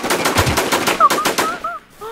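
Rapid automatic gunfire from the online survival shooter Infestation, a loud burst of closely spaced shots for about a second and a half, then quieter game tones as the firing stops.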